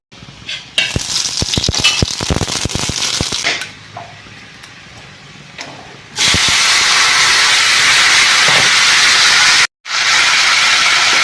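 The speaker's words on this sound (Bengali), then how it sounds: "এখন আমি সরষার তেলে শুকনা লঙ্কা ভাজা করে নিচ্ছি" Dried red chillies fry in mustard oil in a pan. Intermittent stirring clatter and soft sizzling give way to a loud, continuous hiss and spatter, broken by one brief gap.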